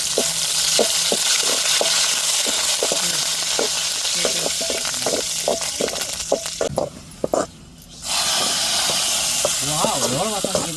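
Curry leaves drop into hot oil for a fish curry, setting off a continuous loud sizzle and hiss with steady frying crackle that briefly dips quieter, then swells back, while a voice talks faintly underneath.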